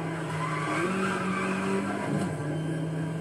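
A car drifting in Need for Speed Most Wanted, its engine droning steadily under a sustained tire squeal that shifts pitch midway, loud and unbroken.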